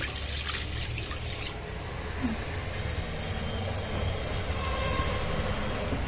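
Water pours steadily into a cooking pan for a raw banana and egg curry, a continuous splashing wash running throughout with no talk.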